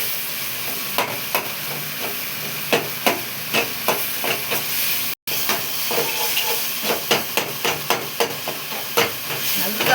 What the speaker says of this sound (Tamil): நல்லா வதக்கணும் பார்த்துக்கோங்க.